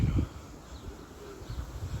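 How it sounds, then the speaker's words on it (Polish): Pigeons coo faintly in a short burst outdoors, soft and distant against a low background rumble. "50 gołębi."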